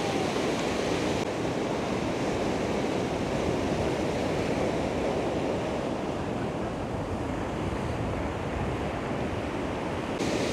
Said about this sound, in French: il y a quand même là des jolies vagues